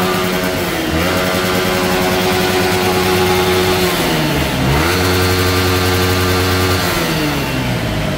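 A Yamaha R15 V3 motorcycle engine revs loudly and steadily through an aftermarket exhaust, the pitch climbing and dropping in several swells, close by with no talking.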